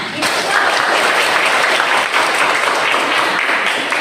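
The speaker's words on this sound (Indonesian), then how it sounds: "Tepuk tangan." A crowd applauds loudly and continuously, dense clapping filling the whole stretch without pause.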